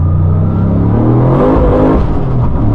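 A 900 hp turbocharged LS-powered Holden Commodore SSV wagon with a manual gearbox accelerates hard in second gear, its engine note rising loudly and steadily from inside the car.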